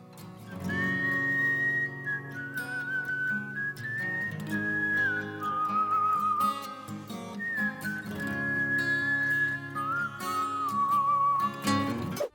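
A clear whistled melody glides over steady guitar and rhythm backing in a rock song, the tune rising and falling in long sustained phrases throughout.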